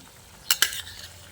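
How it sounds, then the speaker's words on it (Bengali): A spoon stirs mustard-poppy paste into boiled drumsticks in a pan over a low flame, with two quick close scrapes and clinks in the middle of an otherwise quiet moment. "তারপর এই ডাঁটার সঙ্গে ভালোভাবে মিশিয়ে নিচ্ছি"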